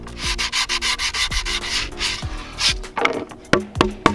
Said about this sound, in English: you're gonna wanna go over the entire board, sandpapering the edge of it